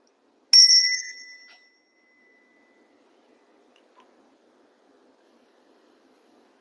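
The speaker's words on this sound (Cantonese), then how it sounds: "我哋就聽個鐘聲" A single meditation bell struck once, ringing out bright and clear before a long sustained tone fades away into near silence.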